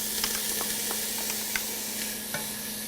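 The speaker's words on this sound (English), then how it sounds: "you have to brown these now in a little bit of olive oil" Tied meat rolls brown in a little olive oil, a close, steady hiss of frying with faint crackles and small pops dotted through, and nobody speaking.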